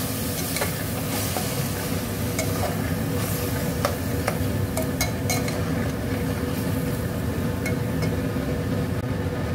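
Mutton stirred in a pan with ginger, garlic and green chili paste, a steady dense sizzle under repeated scraping and clicking of a spoon, with no talking.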